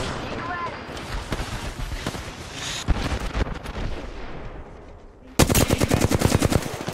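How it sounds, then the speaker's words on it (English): Machine-gun fire in Apex Legends ranked play cracks in rapid, sustained volleys, building to a louder burst near the end, while a player speaks briefly over it. "Taking fire."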